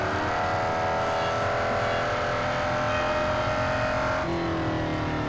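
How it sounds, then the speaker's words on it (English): A Jaguar R3 race car engine in a racing video game drones at a high, steady pitch with shifts as it revs and changes gear, loud and continuous. "when you hear the sound of this car, or a Formula E, there's just no comparison"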